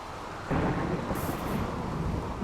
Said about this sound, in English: We're in the middle of a thunderstorm.